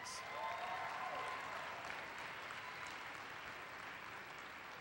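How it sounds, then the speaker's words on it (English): Faint, distant applause from an audience at a university event honoring students, a soft steady wash of clapping that holds evenly throughout. "give them a round of applause"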